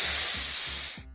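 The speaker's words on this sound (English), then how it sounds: "The spider accidentally sprayed the mouse with purple paint!" A spray paint can releases a loud, continuous hiss of purple paint over soft, rhythmic background music, then cuts off abruptly just before the end.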